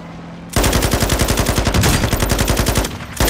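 In a shooting video game, rapid automatic gunfire rattles out in a loud, close, continuous burst of evenly spaced shots, breaking off briefly near the end before resuming.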